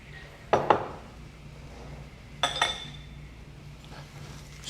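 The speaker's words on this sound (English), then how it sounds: "And then we're gonna add some of those diced canned tomatoes right in." Diced canned tomatoes tipped into a pot of roux and vegetables for rabbit sauce piquante, landing in two short clattering, clinking bursts a couple of seconds apart over a low steady kitchen hum.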